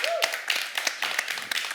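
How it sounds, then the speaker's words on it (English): A conference audience at an innovation event in Cascais applauding a speaker, a close, dense burst of many hands clapping that carries on steadily. "Can we give her a warm hand of applause?"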